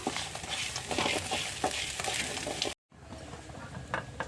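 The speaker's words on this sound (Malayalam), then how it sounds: "നമുക്കിത് നന്നായി വറുത്തെടുക്കാം" Steady sizzling and crackling from a hot pan as spices, including cinnamon, roast for a masala, with occasional stirring scrapes, briefly cutting out before the frying hiss resumes.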